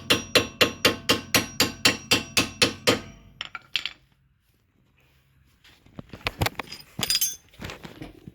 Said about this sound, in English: take your punch and drive it the rest of the way out